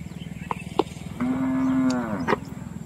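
One long, drawn-out moo from a cow on a farm, steady and resonant for about a second, with a few sharp clicks and knocks before it and soft rustling underneath.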